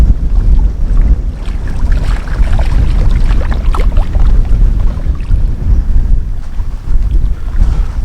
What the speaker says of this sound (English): I think the wind has died down a little bit